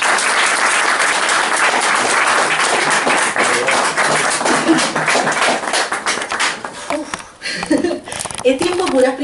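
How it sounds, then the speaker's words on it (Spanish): Strong audience applause at a book launch, dense clapping that thins out toward the end into scattered claps and a few voices. "un fuerte aplauso para que demos el comienzo"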